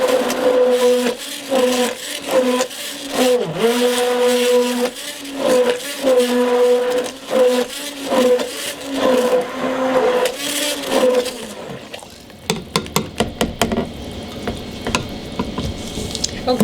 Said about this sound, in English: we are now ready to go ahead and stick blend.